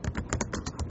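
Rapid clattering keystrokes on an old early-2000s computer keyboard, close and steady, with irregular clicks packed densely throughout.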